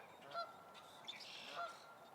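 Canada geese honk a few times on a lake, close to domestic ducks, with clear nasal calls spread over a couple of seconds against a quiet outdoor background.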